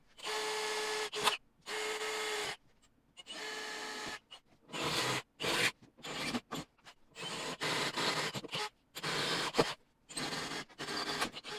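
A power drill bores pilot holes through a Jeep Wrangler JL aluminum inner fender in repeated short bursts of whining, grinding noise separated by brief pauses, moderately loud and close with no talking.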